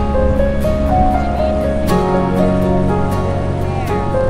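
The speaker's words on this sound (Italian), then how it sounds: "Siamo sul lato canadese dalle cascate del Niagara." Niagara Falls on the Canadian side in Ontario gives a loud, steady roar of falling water, a dense continuous rush close to the listener with no talk over it.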